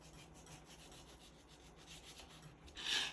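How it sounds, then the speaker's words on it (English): A knife slices through fruit, trimming away a green part about an inch at a time, giving soft, repeated rasping strokes that stay quiet and close, with a brief louder scrape near the end. "So once again, we're slicing."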